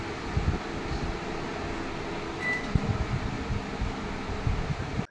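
A convection oven running at 180 degrees while baking atta nankhatai biscuits, giving a steady, even fan-like hum with faint mechanical rumble throughout and no speech.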